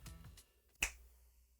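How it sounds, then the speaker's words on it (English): A single crisp finger snap rings out alone in a quiet room, preceded by faint soft rustling. "I'm about to snap my fingers"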